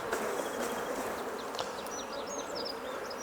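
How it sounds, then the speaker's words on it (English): A dense, steady buzz from many honey bees close by as they are shaken off a hive comb, with a few faint chirps scattered above it. "so I'm just going to shake the bees off"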